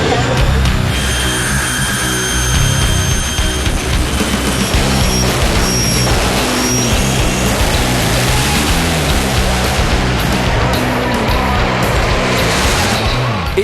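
A 10,000-horsepower top fuel dragster racing down the strip, a loud continuous roaring, rushing noise that swells and shifts in pitch as it passes, sustained for many seconds.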